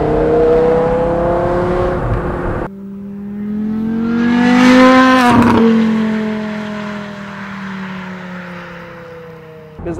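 A 2006 Porsche Carrera GT climbing a hill, its engine holding a loud steady drone, dropping abruptly as it shifts, then swelling into a strong rising rev before easing off into a smooth sustained cruise.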